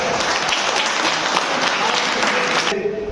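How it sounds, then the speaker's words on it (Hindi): An audience at a youth parliament event bursts into loud, dense applause that holds steady for a few seconds and then cuts off abruptly. "तो एक जोरदार ताली हो जाए।"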